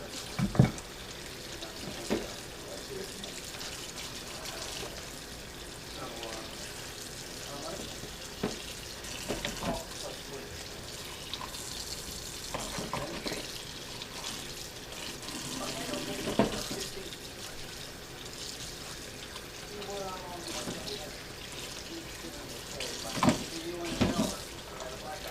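Cold water runs steadily from a kitchen tap while deveined, tail-on shrimp are rinsed and separated by hand, with a continuous splashing hiss and occasional soft knocks and clatters.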